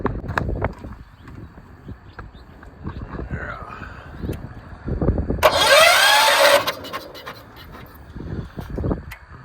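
A 1968 John Deere 140 H3 tractor engine, spark plug removed, cranks over with the starter in a rough whirring burst of a second or so, amid close clunks and handling noises.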